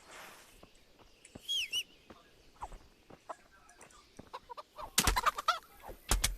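Chickens cluck and squawk in a PC video game, with several short bursts scattered through the clip and a louder flurry of calls near the end; no speech.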